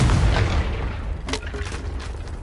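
A Confringo spell explosion in a Hogwarts video game lands as a heavy, close boom. Its rumbling tail carries scattered pops and crackles before it settles.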